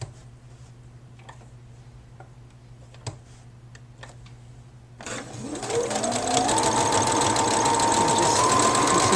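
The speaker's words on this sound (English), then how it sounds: "You're making sure that you're doing a full stitch." A sewing machine stitches quilted fashion fabric. It is quiet at first, then the motor starts about halfway through and runs as a loud, steady, whirring hum that climbs slightly in pitch.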